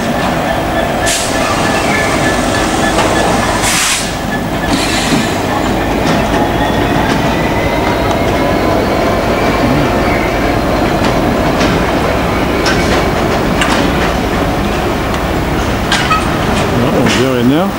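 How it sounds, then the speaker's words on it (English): Class 66 diesel locomotive 66192 shunting railway wagons up and down at a rail yard: a loud, continuous rumble with clanking, rhythmic wheel clicks and brief squeals, heard close, with some talk over it. "This is 66192, just moving these wagons up and down."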